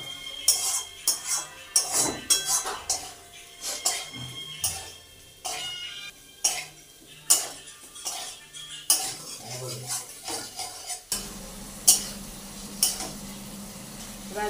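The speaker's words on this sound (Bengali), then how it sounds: "মশলাটা প্রায় কষানো হয়ে এসছে" Spice paste for an aloo-potol kofta curry is being stir-fried in a pan, with the oil starting to separate. Sharp ladle scrapes and clatters come in an irregular rhythm over a soft sizzle, and a low rumble rises toward the end.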